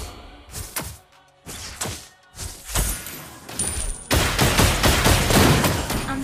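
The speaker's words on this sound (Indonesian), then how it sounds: "Our turret has been destroyed." A turret being destroyed in the Mobile Legends video game, heard as a string of loud booming blasts and crashing impacts that build into a dense, sustained explosive rumble near the end.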